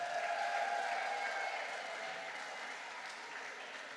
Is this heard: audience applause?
yes